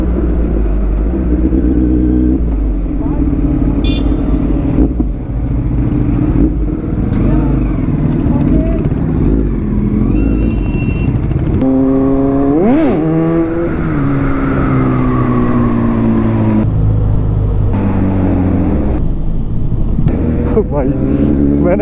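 A motorcycle on a trip to Manali gives a short throttle blip for a wheelie pop, engine revving loud and close among traffic and engine noise, with people talking throughout.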